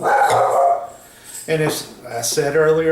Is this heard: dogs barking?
yes